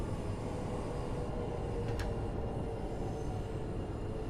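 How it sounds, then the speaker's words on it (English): A Class 375 electric multiple unit rolls into a station in the Train Sim World 4 simulator, a steady low rumble of wheels and motors holding at even loudness throughout with a brief faint hiss near the middle. "Class 375 coming into the station."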